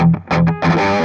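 An electric guitar plays through a Warm Audio Throne of Tone overdrive pedal set to distortion mode, giving a few loud, gritty chords with a thick, saturated sustain ringing out at the end.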